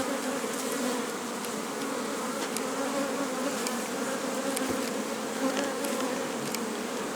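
Bees swarm through a flowering linden tree, their steady buzzing humming continuously at a moderate level with no pauses, faint insect flybys flickering over the dense drone.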